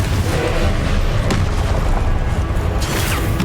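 A Confringo blasting spell explodes in the Hogwarts Legacy video game, a loud, dense boom with a rumbling low end and crackling noise that fills the whole moment, with a sharper burst near the middle.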